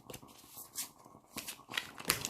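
Oracle cards being handled and dropped, heard as a few quick papery slaps and shuffling rustles in bursts, close and fairly quiet with no talking.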